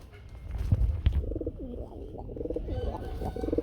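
Domestic pigeons sold as breeding pairs coo softly and repeatedly over low background rumble, some handling noise in the first second.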